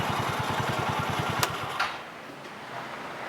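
A small Polaris RZR 170 engine chugs with a rapid, steady low pulse that fades after a moment, leaving a quieter, duller hum with a brief knock in between.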